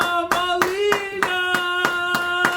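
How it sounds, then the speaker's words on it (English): Steady, evenly spaced hand claps from a talk-show audience greeting a guest, about eight sharp beats in quick rhythm over a sustained humming tone. "I want you guys to give a big round of applause for my boy,"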